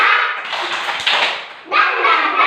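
Kindergarten children clapping a rhythmic spirit clap together in a classroom, a burst of sharp claps and taps with a brief pause before the clapping resumes louder.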